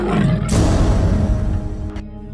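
A deep, loud roar of a white tiger in a cartoon, rumbling and sustained for about two seconds before cutting off abruptly.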